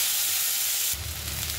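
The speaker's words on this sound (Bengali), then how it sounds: "দেখুন পেঁয়াজটা ভাজা হচ্ছে" Onions frying in oil in a home kitchen pan after fish was fried in it, with nigella seeds tempered first; a steady broadband sizzle and hiss that swells louder partway through, close and continuous with no talk.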